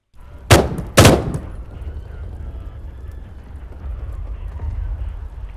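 Single-shot gunfire effects from the SoundMorph Intervention weapons library, two sharp loud reports in quick succession near the start, followed by a lingering low rumbling tail and faint ambience.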